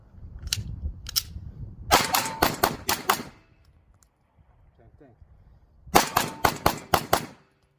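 Handgun shots fired at an array of targets on a shooting range: two separated shots, then a rapid string of about six sharp, loud cracks, a short pause, and another quick burst of five or six shots, with faint talk in the gaps.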